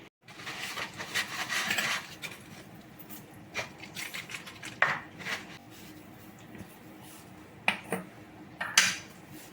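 Brass puja utensils are handled and knock together, producing scattered metallic clinks and clatters, some sharp and close, with quieter shuffling between them and no speech.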